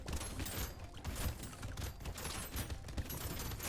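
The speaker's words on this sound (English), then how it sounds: "See if our Gatling laser can just cook these bosses quickly." A Gatling laser fires in Brotato as a rapid, continuous stream of crackling shots, dense and fairly loud, with no pauses across the burst.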